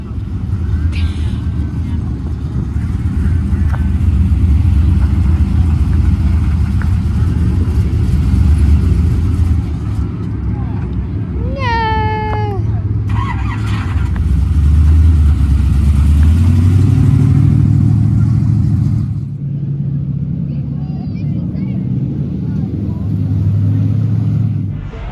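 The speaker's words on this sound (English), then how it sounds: "Usually until the super truck's real nice and warm, you gotta crank it." Super truck engine idles with a deep rumble and is cranked through rising and falling revs to warm up, loud and continuous, with a brief squeal partway through and voices underneath.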